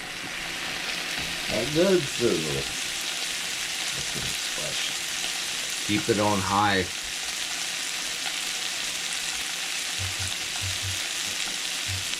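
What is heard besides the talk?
onions sizzling in hot pan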